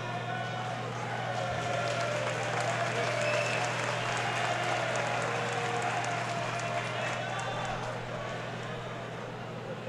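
Fans at an Iron Fight Combat event clap and cheer in a large venue, a steady wash of applause and crowd noise that stays fairly distant and even throughout.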